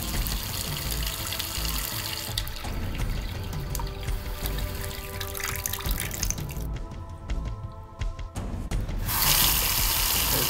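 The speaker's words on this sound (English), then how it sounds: "Still slowly, but water is going." Water runs steadily down a kitchen sink drain being cleaned with Coke, a continuous hissing, gurgling flow that is loud and close, briefly dipping before surging again near the end.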